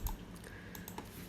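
Quick light typing on a computer keyboard, a few soft key clicks in close succession, quiet and without talk.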